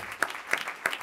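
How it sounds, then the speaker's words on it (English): A few scattered hand claps from a church congregation ring out in a room, three distinct sharp slaps at an uneven pace, moderately loud. "let's give God a hand clap"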